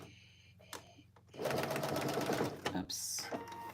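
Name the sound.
sewing machine top stitching a pocket's folded edge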